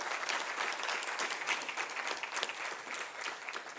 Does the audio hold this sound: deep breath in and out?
no